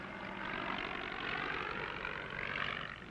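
Old Spad WWI fighter plane flying overhead, its piston engine droning steadily at moderate distance, the buzzing note rising and swelling slightly as it passes, heard alone without talk.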